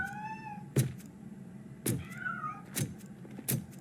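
A cat in the video game RoboCop: Rogue City meows several times, with rising and falling calls mixed with sharp thumps, close and fairly loud, and no talking.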